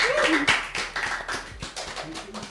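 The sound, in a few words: hand clapping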